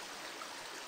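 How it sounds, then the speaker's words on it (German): Quiet, steady rushing and trickling of the Andritzbach brook, a calm stream flowing, as a soft continuous wash of water with no voices. "der Andritzbach ist ein ziemlich schöner und ruhiger Bach"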